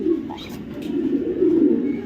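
Racing pigeons coo steadily and close by, a soft low burbling that rolls on for about two seconds with slight swells, with faint rustling behind them.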